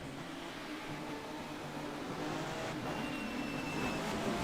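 Touring race cars from the TCM series at Oran Park, a steady, continuous engine roar from a pack of cars that grows slightly louder midway, with no talk over it.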